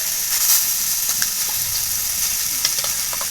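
Vegetables frying with salt in a pan, a steady close sizzle and hiss with a few stirring scrapes and crackles throughout.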